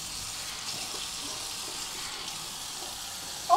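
Water running steadily from a kitchen tap while an apple tart is prepared, a soft continuous hiss at moderate level with a small clunk at the end, no talking.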